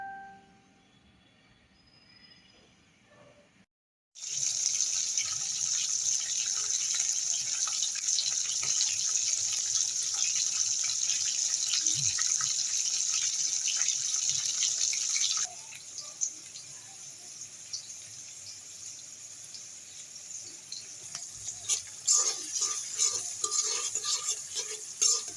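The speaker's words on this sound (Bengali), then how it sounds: "যে শাপলা কেটে নিয়েছি এখন এগুলা ধুয়ে নিব" A kitchen water tap runs in a strong steady stream while freshly cut water lily stems are washed under it, with handling clatter and splashing that grows more uneven toward the end; no talking.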